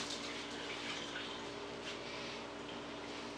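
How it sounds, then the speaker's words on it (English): Hands are washed under a running tap, with a faint, steady rush of water that continues evenly without pause. "once you're done with that, I'm going to wash your hands"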